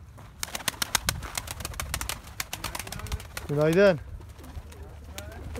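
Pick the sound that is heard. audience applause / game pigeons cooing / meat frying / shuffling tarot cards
game pigeons cooing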